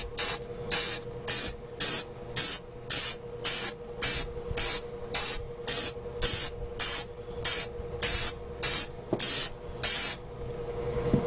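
Aerosol can spraying a final cold coat during a compressor repair on a 2000 Ford F150 5.4L Triton: about fifteen short, even hissing bursts in a steady rhythm, loud and close, with no talking.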